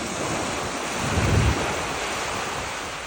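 Ocean waves and surf at a Sydney beach wash in as a steady, loud roar with heavy wind buffeting the microphone, swelling briefly midway as a wave breaks.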